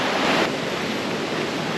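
A river flowing fast and muddy after rain at a jungle campsite near a mountain trail in Malaysia: a continuous broad rushing wash, steady and fairly loud with no voices.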